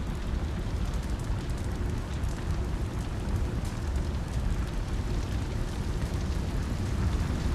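Thatch burning in a 900 °C fire test with a 7-knot wind roars as a dense, steady crackling rush with a low rumbling undertone, continuous and close throughout.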